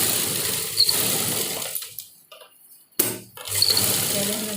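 A sewing machine stitches kurti fabric in short runs, a fast whirring motor buzz that stops for a pause around the middle, then starts again with a sharp onset and runs on steadily.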